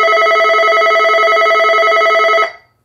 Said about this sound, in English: Alright, guys, this is ringer. Weird ringer.